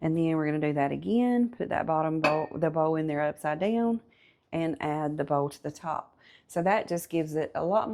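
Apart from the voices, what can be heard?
None of the usual background noises is heard.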